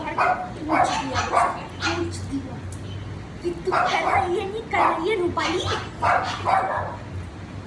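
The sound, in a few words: dogs barking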